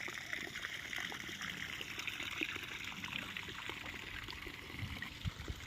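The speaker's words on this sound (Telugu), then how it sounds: "ఇక్కడ వాటర్ వస్తున్నాయి చూడండి, ఈ వాటర్లో కలిసిపోతున్నాయి ఇక్కడ నుండి." Liquid jeevamrutham, a fermented organic fertilizer, flowing with irrigation water into a channel on a four-acre farm field; a faint, steady trickle and gurgle with light outdoor background noise and no voices.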